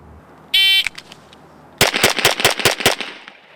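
Pistol shots in a speed shooting drill: a buzzer tone, then a quick volley of about eight loud, sharp gunshots in a fast, even rhythm, close and alone.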